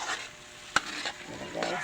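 Corned beef and egg sizzle softly in a frying pan, with a sharp clack of a utensil against the pan and brief stirring scrapes amid the quiet crackle.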